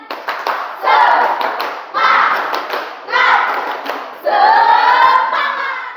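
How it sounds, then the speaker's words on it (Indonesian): A school class chants the 'tepuk semangat' clapping routine, rhythmic bursts of group clapping punctuated by children's voices chanting together in four short phrases. "Tepuk semangat."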